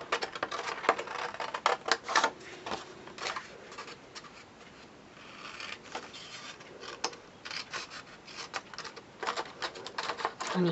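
Small scissors snipping cardstock along a score line, a run of quick, irregular crisp cuts close up and fairly quiet, with brief pauses between bursts.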